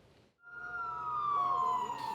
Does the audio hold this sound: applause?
no